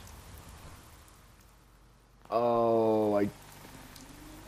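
Steady hiss of rain in the video game Fallout 4 runs throughout, dipping briefly before a loud harmonic tone swells in for about a second, with a short spoken word heard.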